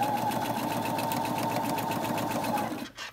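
A sewing machine stitches a zipper onto a bag, its fast steady mechanical whirring and needle chatter running continuously at close range before stopping abruptly near the end.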